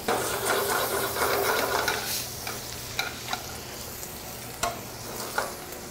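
Pieces of meat sizzling in a hot pan during deglazing, a loud hiss that eases after two seconds into quieter sizzling broken by sharp clicks and clinks of a utensil against the pan.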